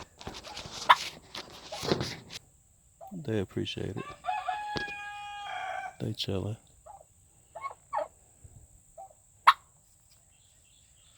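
Turkeys gobble and chatter in short bursts, close by, with someone talking briefly over them.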